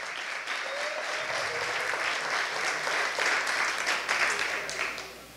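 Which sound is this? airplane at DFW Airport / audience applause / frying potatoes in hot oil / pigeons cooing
audience applause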